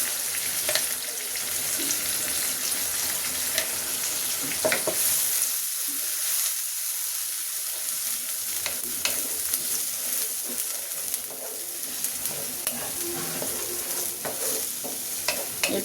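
A paste of fried onion and two green chilies fries in a pan, with a constant bright sizzle broken by scraping stirs near the middle and no voices.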